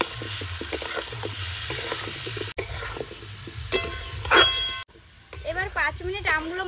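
Raw mango pieces cooking in a pan with salt, turmeric and chili powder for a Bengali mango chutney, giving a steady stir-fry sizzle with scraping stirs; brief gaps break the sound twice.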